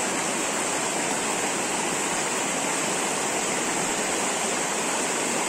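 A clean river flows in a rural stretch, a dense, loud, constant rush of water with no pauses, close and steady throughout with no voices.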